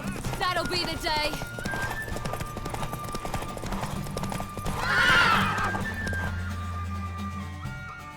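A mare in The Witcher 3 video game whinnies loudly while hooves clop steadily, with characters talking over the horse sounds.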